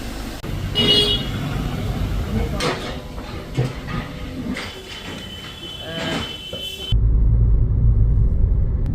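A Maruti Suzuki Brezza diesel on a road test after alignment and wheel balancing, with steady road rumble and engine noise from inside the cabin, a few brief knocks, and a louder low drone near the end.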